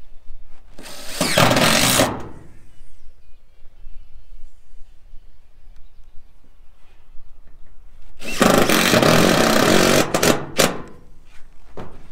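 Power drill driving screws into metal roofing on a horse shelter: two loud, close bursts of whirring and rattling, one about a second long and a longer one later, with a quiet gap between.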